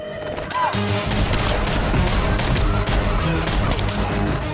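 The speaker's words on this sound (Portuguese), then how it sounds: "Keanu Reeves, o astro dos filmes John Wick, uma franquia em que os personagens trocam tiros constantemente." Rapid, dense film gunfire from John Wick crackles and booms continuously in a chaotic burst of shots, loud and close, with faint voices mixed in.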